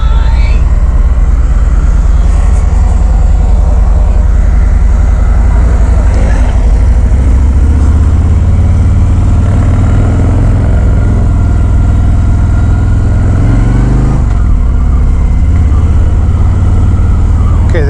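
A 2019 Harley-Davidson Road King Special being ridden, its engine a steady low rumble beneath loud wind buffeting throughout, with a brief dip and surge near the middle as the bike moves slowly.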